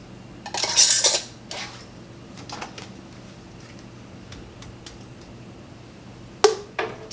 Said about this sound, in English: Place our lids on, and then add our rings to fingertip tight.